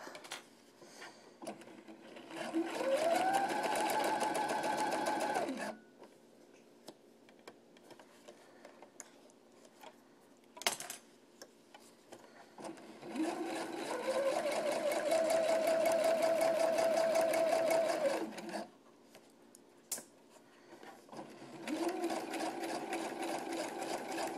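A sewing machine topstitches an all-in-one cloth diaper in three steady whirring runs of several seconds each, separated by quiet pauses with small clicks and ticks as the fabric is turned.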